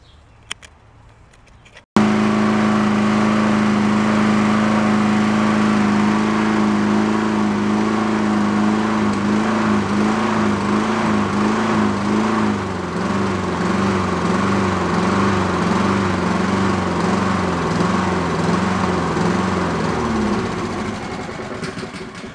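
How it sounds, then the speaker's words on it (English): A Honda walk-behind lawn mower from a yard sale, under repair, starts up after a brief quiet moment and runs loud and close with a steadily surging, oscillating idle. "I can't get rid of the oscillation in it without that idle circuit"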